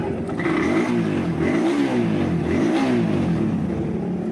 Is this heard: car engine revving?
yes